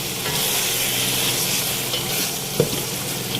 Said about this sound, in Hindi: मैंने फुल फ्लेम पे इसको अच्छी तरह भूनना है कि जब तक हमारा ऑयल अलग नहीं हो जाता